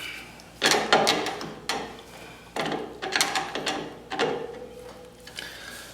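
Clamping down a regulator part during a tri-fuel generator conversion: a series of close ratcheting clicks and metallic mechanical clatter in uneven bursts, with short pauses between.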